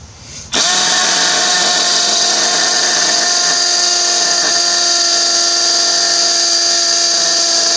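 Rotary hammer drilling a hole for a Tapcon concrete screw under firm pressure, starting abruptly into a loud, steady high-pitched whine that holds for several seconds, no talk.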